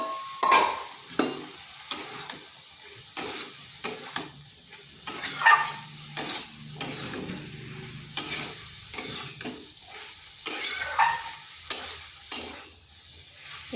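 Ivy gourd and potato pieces fry in spiced oil in a pan, a soft continuous sizzle broken by regular scraping stirs of a spatula, close and without voices.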